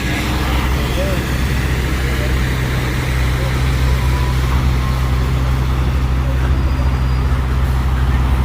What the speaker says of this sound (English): Those are cargo trucks, and I see they're from supermarkets.